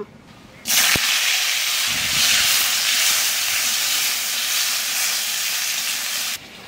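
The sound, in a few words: potatoes frying in oil left from frying fish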